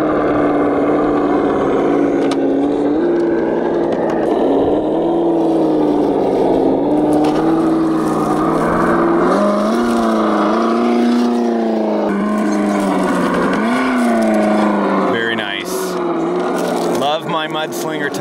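Vaterra Ascender 4x4 RC crawler with a Chevy Blazer body and Mudslinger tires, its brushed or brushless motor run at low throttle on a backyard trail course, giving a steady close whine whose pitch wavers up and down throughout.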